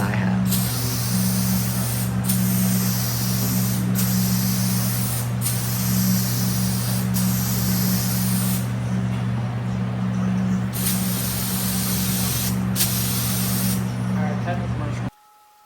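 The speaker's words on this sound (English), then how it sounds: "When you're spraying gel coat, it doesn't matter." Spray gun steadily applying gel coat to a boat hull, a continuous loud airy hiss with a low compressor drone beneath, briefly interrupted by short pauses in the trigger, running the whole time.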